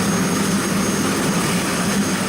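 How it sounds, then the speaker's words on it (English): A helicopter at Kahului Heliport on Maui gives off a loud, steady engine and rotor roar. The sound is close and continuous with no talking. "these days it still has 2 helicopters, like this one here at the Kahului Heliport."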